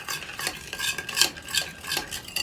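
A spoon stirs a honey marinade mixture in a bowl, giving repeated scraping and clinking strokes in an uneven rhythm, close and fairly loud, with no talking.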